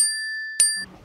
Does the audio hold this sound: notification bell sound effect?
yes